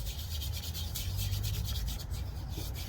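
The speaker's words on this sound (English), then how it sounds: "WD-40, good way to clean your hands." Hands being rubbed clean with WD-40 during a Rover K-series oil service, a steady, close, continuous rubbing and scrubbing with no pauses.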